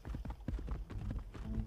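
Horse hooves galloping in the survival game Rust Mobile, a quick rhythmic run of thudding clip-clop beats, fairly close and moderately quiet.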